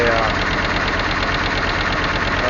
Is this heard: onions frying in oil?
no